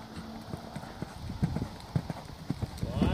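Horse hooves clip-clop in a steady walking rhythm at a riding session while the animal is led back toward its stall, close and clear, with a person talking over the footfalls.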